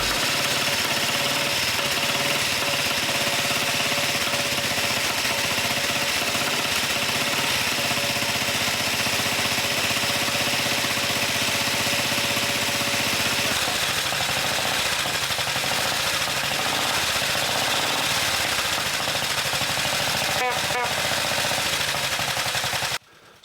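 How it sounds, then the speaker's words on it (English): A 1930 Triumph NSD Deluxe motorcycle engine runs steadily throughout at a workshop open day, a continuous close, loud mechanical drone with an even idle and no talk over it. "attempts to fire up the undoubted probably star of the show today, a beautiful 1930 Triumph NSD Deluxe"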